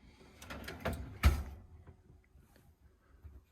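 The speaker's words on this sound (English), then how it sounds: "with a creaky door" A creaky cupboard door in the kitchen of a Peugeot Boxer L3 H2 camper van swings with a few short rubbing creaks, then a single sharp thud as it shuts, close by, followed by quiet.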